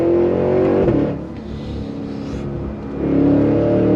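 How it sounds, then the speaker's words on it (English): A 2023 Cadillac Escalade-V performance SUV accelerating hard on throttle, a loud close engine roar that dips briefly as if shifting, then swells again, heard from inside without talk. "on throttle, here we go"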